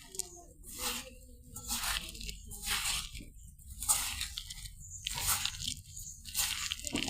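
Besan being worked by hand into a wet spinach mixture with egg, rhythmic squelching and crunching squishes in bursts about once a second, close and fairly soft, no talk.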